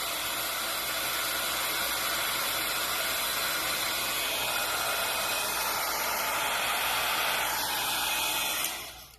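A hair dryer blows close and steady over wet watercolor paint, a continuous whooshing roar that cuts off abruptly near the end.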